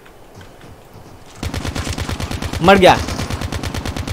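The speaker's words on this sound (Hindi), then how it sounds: "अबे इतने सारे गोलियां बरस रहा हूँ फिर भी नहीं मर रहा" Rapid automatic gunfire from Call of Duty Mobile starts after a quiet opening and runs as a steady, loud rattle to the end, with a brief burst of higher tones near the close and a voice speaking briefly over it.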